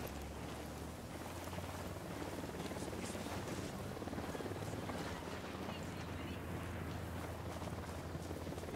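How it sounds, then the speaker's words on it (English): A helicopter approaching in Ghost Recon Wildlands, heard as a steady, low rotor drone that holds throughout beneath a wash of hissing noise. "Chopper's approaching."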